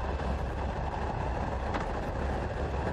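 Steady rumble of a speeding train with broadband rattling noise, continuous and fairly loud throughout, no clear change in pace.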